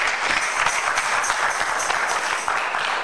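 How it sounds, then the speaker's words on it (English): A church congregation claps together after a closing prayer, a dense, steady wash of applause that stays loud and even throughout without a clear beat. "Let's clap for Jesus."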